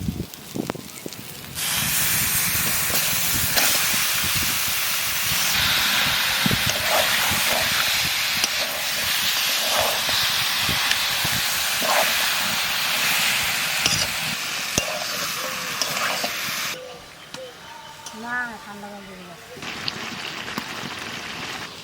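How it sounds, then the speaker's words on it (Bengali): Country rooster meat dropped into fried ground spice paste, a loud continuous hiss and sizzle filling the pan for most of the stretch, then cutting out near the end. "মশলা কষানো হয়ে গেছে এইবার মাংস দিয়ে দেবো"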